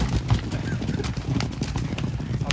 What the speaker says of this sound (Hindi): अरे मजनू भाई का घोड़ा ये अब